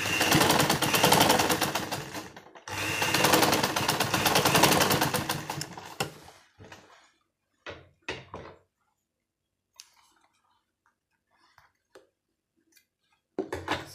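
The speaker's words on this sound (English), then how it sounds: "you take the other side and sew it to the back" Sewing machine stitching the fabric of an underwear lining for a transparent bubu gown: two steady motor runs of rapid needle clatter, then short bursts and scattered clicks, close up and with no one talking.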